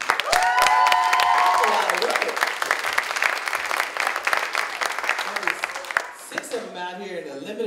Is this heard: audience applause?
yes